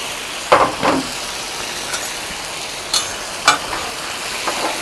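Vegetables for fajitas sizzle on a Blackstone griddle outdoors, a steady soft frying hiss broken by a few sharp scraping tosses from a spatula, close by, no talking.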